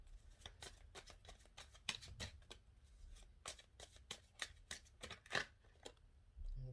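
Tarot cards being shuffled by hand, a quiet, close series of soft riffling and slapping bursts in an irregular rhythm, with no talking.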